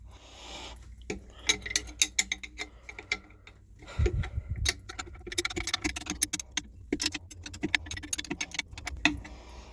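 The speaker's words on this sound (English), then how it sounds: "Next thing we're going to do is get these nuts loose. Now that's a 1/2 inch wrench." A 1/2 inch wrench working nuts loose on a 1999 Mercruiser 454 L29 marine engine during impeller maintenance, giving quiet, irregular metallic clicks, taps and ratcheting clinks close by, with a brief duller clunk partway through.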